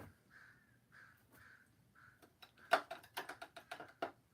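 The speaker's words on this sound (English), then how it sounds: "Those sound more like crows, I think." Several crows caw outdoors, first a few spaced, fairly distant calls, then a louder, quicker run of harsh caws with no speech over them.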